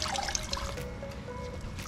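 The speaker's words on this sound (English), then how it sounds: "rinse this out in this clean water" Wash mitt swished and rinsed in a bucket of clean water while washing a 2021 Tesla Model 3 Performance, a close, steady watery sloshing and trickling.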